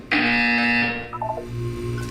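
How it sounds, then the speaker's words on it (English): A loud, harsh electronic buzzer in the video game Portal 2 blares for about a second, followed by a lower tone and a few short electronic beeps. "You will hear a buzzer. When you hear the buzzer, look up at the ceiling."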